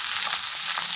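Button mushrooms fry in oil in a pan while a pizza is being made, giving a steady, close sizzle that runs through the whole second with no voices.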